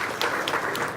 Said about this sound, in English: If we could give them one big round of applause, please.